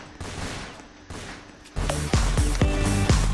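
Sniper rifle fire in a Fortnite-style Roblox game, several sharp cracking shots in uneven succession, each followed by a brief ringing tail, growing louder and denser toward the end.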